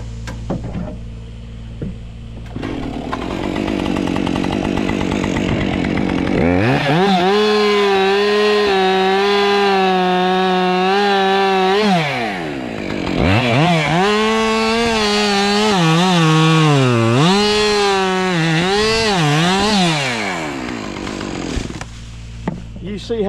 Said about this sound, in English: I'm gonna cut it with a 550 Husqvarna